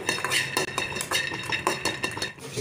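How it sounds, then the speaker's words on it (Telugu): Peanuts lightly frying in a pan while a metal spoon stirs and scrapes, giving repeated close clinks and scraping strokes in an uneven rhythm with no talk. "పల్లీలని లైట్ గా ఫ్రై చేసుకోవాలి"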